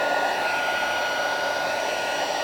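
A craft heat tool blows steadily and loudly, melting embossing powder on a stamped card, a constant hairdryer-like whoosh with no pauses throughout.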